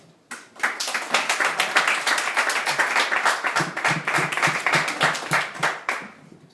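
Audience members in a room break into applause during a talk, a sustained wash of many hands clapping that rises sharply, holds steady for several seconds, then tapers off.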